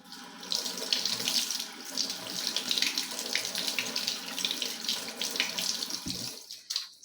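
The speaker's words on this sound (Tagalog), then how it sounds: "So dito ako sa loob maghuhugas ng aking kamay. Sa lababo kasi may sabon." Tap water runs steadily into a sink for about six seconds while hands are washed beneath the faucet, a close, continuous splashing hiss that cuts off near the end.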